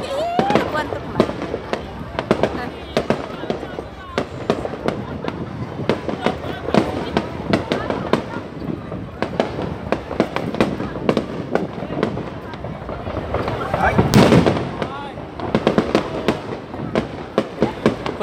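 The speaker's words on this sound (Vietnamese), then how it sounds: "pháo hoa bắt đầu" Fireworks bursting at a Mien flower festival, a dense run of sharp cracks and pops from close by, with people talking and calling out in between.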